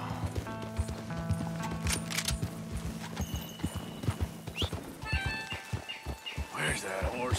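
Horse hooves clip-clop in a fast gallop in the Western game Red Dead Redemption, with neighs and whinnies mixed in and birds chirping faintly, while a voice is heard now and then.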